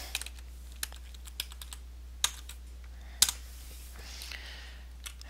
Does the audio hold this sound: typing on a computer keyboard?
yes